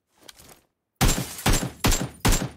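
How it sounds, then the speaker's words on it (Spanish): Gunfire in the battle-royale video game PUBG: a faint shot or two, a pause, then four loud, sharp reports in a steady rhythm, close and alone without talk. "Uy, lleva tres tiros."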